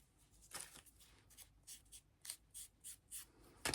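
Scissors cutting a paper bottle label, a quiet series of close, dry snips and rubbing paper sounds in an uneven rhythm, ending with a brief louder rustle.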